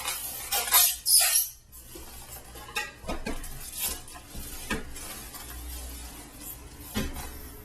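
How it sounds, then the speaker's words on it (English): Two foil packs are popped open by hand: a loud, sharp crackling burst early on, followed by scattered lighter crinkles, taps and handling clatter. "Popping off the two foil packs"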